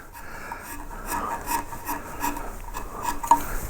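A narrow quarter-inch gouge shapes the knot of a wooden bow tie carving, giving soft, close scraping and rubbing strokes in an irregular rhythm with small clicks.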